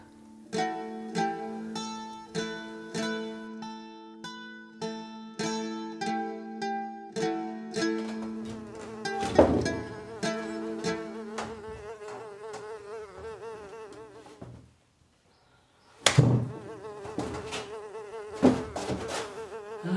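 Flies buzz close by in a steady, droning hum that wavers in pitch, with a brief quiet gap partway through before the buzzing returns loudly.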